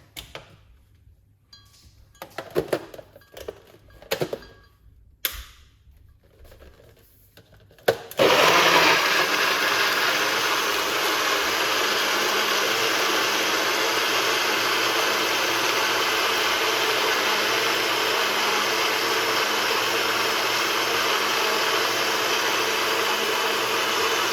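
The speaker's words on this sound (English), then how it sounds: "let's get the blender." A few knocks and clatters, then a blender starts blending kiwi, cucumber, lime and ginger, roaring steadily at high speed, loud and continuous to the end.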